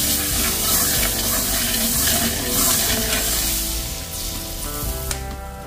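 Butter sizzling in a frying pan, used after frying oil was poured off, a steady loud crackling hiss that runs throughout with faint scraping of stirring and no talk.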